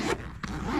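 Zipper on a Veto Pro Pac SB-LD tool service bag pulled closed in one quick, close rasping run with a brief catch partway through, heard alone.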